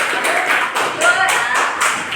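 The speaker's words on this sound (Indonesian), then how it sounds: "Tepuk tangan buat kita." A class of students in a school lesson claps together in a brief round of applause, quick bright hand claps in a loose rhythm, close and loud, with no talk over them.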